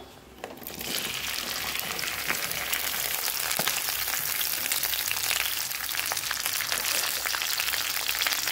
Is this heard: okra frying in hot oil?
yes